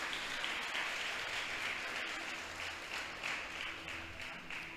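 A church congregation claps in praise to God, a fairly faint but steady wash of applause that swells and eases slightly over a few seconds, with no voices over it.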